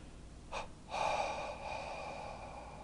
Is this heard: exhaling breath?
yes